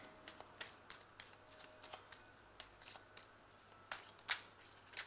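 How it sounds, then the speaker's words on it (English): Tarot cards drawn and shuffled during a love reading, giving a string of soft, quiet papery flicks and taps that come irregularly and close up, with no talking. "So I'm just going to draw some cards."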